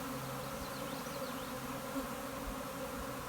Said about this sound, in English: I'm like in a bee swarm.